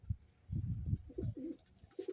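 A visiting fancy pigeon coos in a loft with soft, low, throaty repeated calls, close and gentle, a few separate coo phrases over quiet background.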